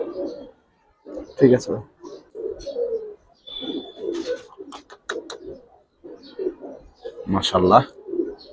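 Pigeons, a big pair of brown-necked show birds, coo softly in short bursts between steady Bengali conversation, close by and mostly under the talk.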